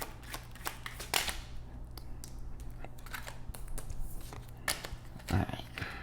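Oracle cards being shuffled by hand, a run of quick papery riffles and flicks in irregular bursts, fairly close and moderately loud with a faint low hum beneath.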